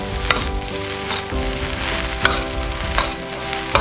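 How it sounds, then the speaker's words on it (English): Butter sizzles steadily in a hot pan as shrimp fried rice is being cooked, with a continuous frying crackle and a few sharper pops and stirring scrapes over about four seconds. "We got a piece of butter. Go right in."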